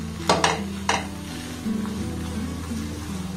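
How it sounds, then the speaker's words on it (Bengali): Milk powder paratha frying in oil in a pan: a few sharp utensil clinks and scrapes early on, then a steady soft sizzle and bubbling, close by with no talking. "আপনারা চাইলে কিন্তু একটু কড়া করে এটাকে ভাজতে পারেন, আবার একটু নরম করেও ভাজতে পারেন"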